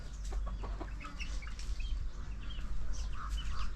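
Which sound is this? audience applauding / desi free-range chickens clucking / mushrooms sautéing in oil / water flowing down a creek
desi free-range chickens clucking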